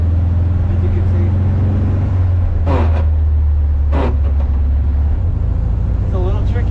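Car being driven with a small gearbox tricky between first and third, a steady loud engine drone up close with brief bursts of louder noise, under a man's speech.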